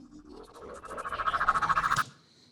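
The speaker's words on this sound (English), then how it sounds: "So all together, I guess the two risers by themselves sounds like this." Two cinematic riser effects for a GT3 car sequence are layered together. They swell into a pulsing, wobbling tone that grows louder for about two seconds, then cut off abruptly into near silence.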